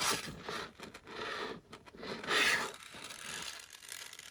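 Scissors cut through paper at a table for mixed media coloring, a close, quiet run of scraping snips and rustles with no talk.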